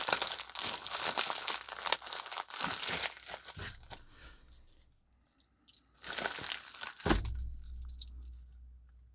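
Paper packaging and a padded mailer around a Bulova Devil Diver watch crinkle and rustle close up in loud bursts, with a quiet pause in the middle before more crumpling and a final crunch.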